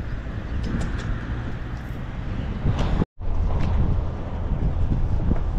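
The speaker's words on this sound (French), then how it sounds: "C'est venteux." Wind blowing hard in the Sahara desert, a loud steady roar buffeting the microphone with a brief cut in the middle.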